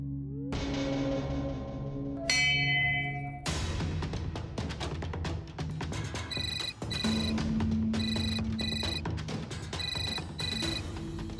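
A phone ringtone plays loudly and alone as a melodic electronic ring, repeating its bright tone pattern through the whole stretch without any voices.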